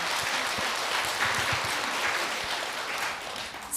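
A steady, dense round of applause from an audience at a Buddhist dharma question-and-answer session, welcoming a questioner to the microphone. It sounds even and moderately distant and carries on throughout.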